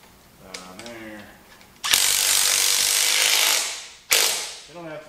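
A ratchet tightens a locking nut on the cylinder of a Bobcat T300 skid steer. It gives a loud, close, rasping burst of about two seconds, then a shorter second burst, with brief talk before and after.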